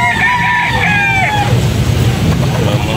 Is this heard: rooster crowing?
yes